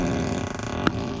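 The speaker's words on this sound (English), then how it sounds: "it makes a fart noise" A 2021 Tesla Model 3 Long Range plays its whoopee-cushion fart sound effect, a loud, buzzy, sputtering blast lasting about a second that ends with a short pop.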